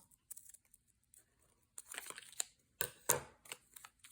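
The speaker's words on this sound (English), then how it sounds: "I think I'm going to just cut those out." Scissors cutting wrapping paper: quiet, close crinkling and snipping in short irregular bursts separated by brief pauses, with no talking.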